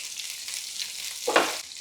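Onions with curry leaves sautéing in a pan, a soft continuous sizzle with a short louder burst of frying near the end, brief and close.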